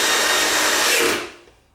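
Power tool driving screws while installing the steel base stand of a TCL 75C855 Mini LED television, a loud, close whirring burst that stops after about a second.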